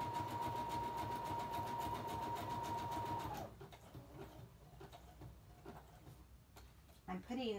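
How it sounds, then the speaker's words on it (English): A sewing machine stitches a zigzag around a library card for a collage, running fast and steady at first, then slowing to a softer uneven ticking with a brief whir at the end. "I'm just sewing the zigzag all the way around the card."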